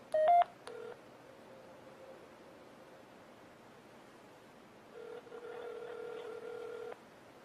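Touch-tone keypad beeps on a Samsung Intensity 2 phone placing a test call: a few quick dialing tones, then a steady, faint ringback tone lasting about two seconds, heard close and clean with no talking.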